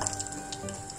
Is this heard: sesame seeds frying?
yes